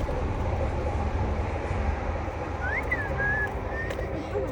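A train rumbles past nearby, a steady broad roar of rail cars running through the whole stretch, loud and close, with a faint whistle-like squeal partway through.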